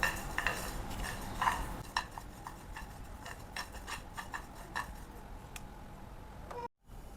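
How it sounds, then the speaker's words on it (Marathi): Flax seeds dry-roasting in a pan over medium heat for a Marathi javas chutney, with a spatula stirring and scraping so the seeds rattle and tick steadily against the metal, soft and close, with no talking. "मध्यम आचेवर आपल्याला 1-2 ते 3 मिनिटे जवस छान असं भाजून घ्यायचं आहे।"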